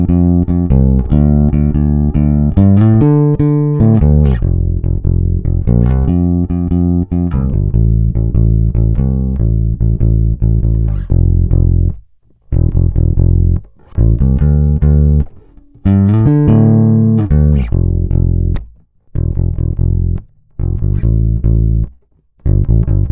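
Warm, slightly driven bass guitar through a tube preamp playing sustained notes and riffs, loud and close, with several short silences between phrases near the end.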